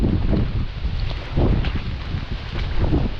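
Strong typhoon wind gusts roar over low crops, buffeting the microphone in uneven surges, with no talking.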